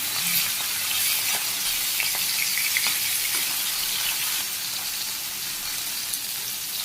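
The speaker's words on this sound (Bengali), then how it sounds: "তেল গরম হয়েছে অনেক একটা করে মাছ দিয়ে দিই" Whole fish pieces fry one by one in a pan of very hot oil in a Bangladeshi village kitchen, giving a steady, loud, dense sizzle with scattered pops and crackles throughout, no voices.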